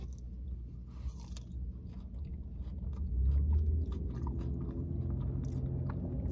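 Potato fries dipped in a cheesy Peruvian sauce being chewed up close, wet steady mastication with soft crunches that grows slightly louder midway, no speech over it.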